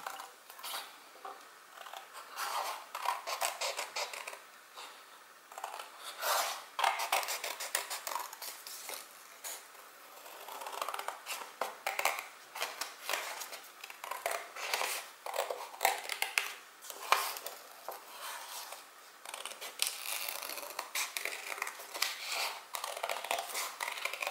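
Scissors cut through folded card in a craft session, with repeated close crunching snips and paper rustle in irregular bursts throughout, fairly soft.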